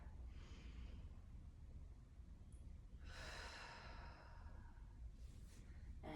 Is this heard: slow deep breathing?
yes